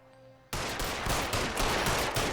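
Sustained gunfire in the LA Noire video game erupts abruptly after a quiet hum, a dense continuous barrage of rapid shots, loud and close, filling the rest of the moment.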